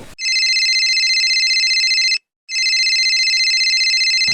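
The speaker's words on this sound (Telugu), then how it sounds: "అగో ఫోన్ మోగుతుంది" A phone rings loudly with a steady electronic trill in two long bursts, separated by a short pause, with nothing else audible.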